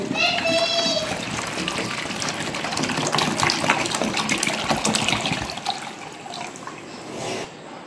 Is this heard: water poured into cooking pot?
yes